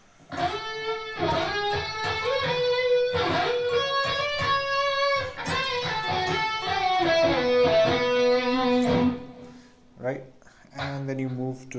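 Electric guitar playing the solo from a song, slowed down: sustained bent and held notes over a steady accompaniment, loud and continuous, with a short break near the end before a final phrase.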